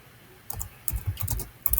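Short bursts of typing on a computer keyboard, a few quick clusters of crisp key clicks separated by brief pauses, close and clear.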